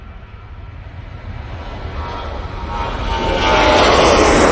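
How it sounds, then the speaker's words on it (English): Boeing 737-800 with split scimitar winglets on its takeoff roll, engines building from a low rumble to a loud, broad roar that swells over several seconds, heard alone without voices. "On the roll, 737-800 with a split scimitar."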